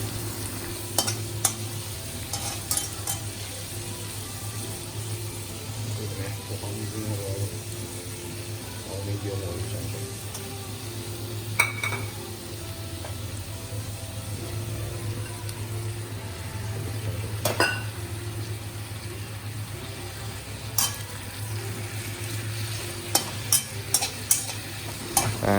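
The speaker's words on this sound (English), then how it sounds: "we're going to mix this with the garlic and onion" Vegetables with garlic and onion fry in a pan while being stirred, giving a steady moderate sizzle with a low hum underneath and scattered clinks and scrapes of a utensil against the pan.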